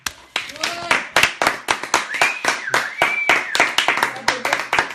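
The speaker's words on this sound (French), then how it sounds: "Messieurs, dames, les enfants peuvent applaudir aussi." Audience applause breaks out at a French singer's show: dense, sharp hand claps go on steadily and close, with voices calling out over them.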